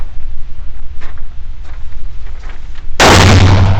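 A .45 revolver fires once at a gun range, a single loud, close blast near the end that follows quieter handling noises and faint clicks.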